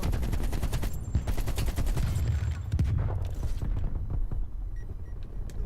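AK-47 gunfire in Black Ops Cold War, loud sustained automatic bursts rattling almost without pause, with mechanical clanks and game effects layered in and no talking.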